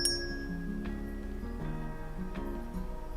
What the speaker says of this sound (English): Bells jingled as I pulled open the wooden door